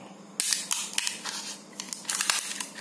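Crisp plastic packaging around a body serum is torn and crackled open during unboxing, loud close snaps and crinkles in quick irregular bursts.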